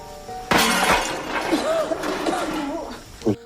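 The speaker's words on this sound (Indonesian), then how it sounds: "tiba-tiba ada suara benda pecah yang mengalihkan perhatian mereka" An object shatters suddenly in a horror film scene, a sharp loud crash with scattering debris, followed by a brief lingering tail and a second smaller clatter near the end.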